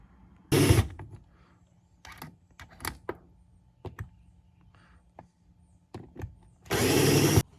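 Bolts come off the float bowl of a Suzuki Ozark 250 carburetor, which is being cleaned for a no-acceleration fault. Two short, loud bursts of a power driver frame a scatter of small metallic clicks and taps nearby.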